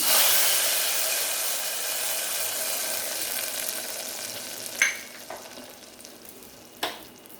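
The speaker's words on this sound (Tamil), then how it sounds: "இதை நம்ம தூக்கி நம்மளோட மாங்காய் பச்சடியில் ஊற்றிடலாம்" Hot tempering poured into Tamil mango pachadi gives a steady hiss and sizzle that slowly fades, with a few faint clinks of a utensil near the end and no talking.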